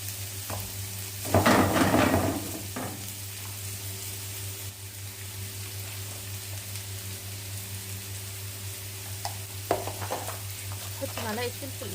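Chicken frying in a pan, sizzling steadily at close range through a low kitchen hum, with a louder burst of stirring early on and a few scraping knocks near the end.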